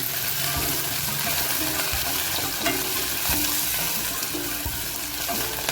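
Tomato sautéing in a pan for paneer bhurji, a continuous close sizzle broken by repeated stirring scrapes and small clinks, with no talking.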